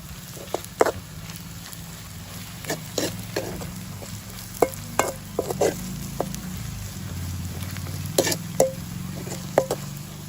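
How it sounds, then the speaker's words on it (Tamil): Fish masala with coriander powder and pepper sautéing in a pan, a steady low sizzle broken by repeated sharp scrapes and taps of a spoon stirring, close and moderately loud with no talking. "இது நல்லா வதங்கட்டும்."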